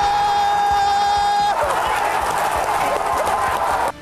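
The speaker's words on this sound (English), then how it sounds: "cheering a goal by the home squad" More than 30,000 PSV football fans roar for a home goal inside the stadium, a dense, loud wall of cheering that swells and holds steady before cutting off abruptly.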